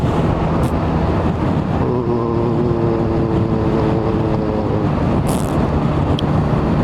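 A 2021 BMW R 1250 RT motorcycle cruises in sixth gear at about 4000 rpm, giving a loud, steady engine drone with a low hum and heavy wind rush throughout.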